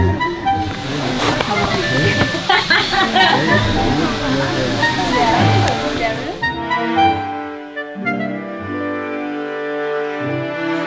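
Water rushes steadily near an old century tree and pond on Siquijor Island in the Philippines, a loud continuous wash that gives way to calmer flow with faint tonal sounds toward the end.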